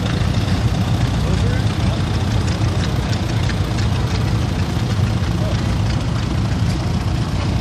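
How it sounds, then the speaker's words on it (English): A 1965 Case 180 tractor fitted with tractor tires runs at a vintage tractor parade, its engine a steady, loud low rumble throughout, with speech likely mixed in. "It's a 1965 Case 180"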